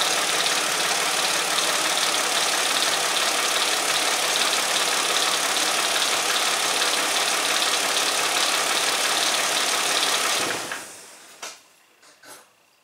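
A 2002 Mercedes ML320 engine with a P0400 EGR fault runs with a loud, steady mechanical drone for about ten seconds before the sound cuts away, leaving a few faint knocks.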